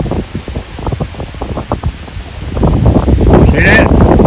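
Strong wind blows in gusty bursts against the microphone outdoors, with brief rustles and a steadier roar building near the end, and a voice speaks briefly over it.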